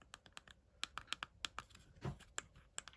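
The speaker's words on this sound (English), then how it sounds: "Buttons really clicky, listen to the buttons." Sharp, clicky button presses on a modded Digimon Vital Bracelet BE digivice shell, about a dozen quick irregular taps close up with no talking.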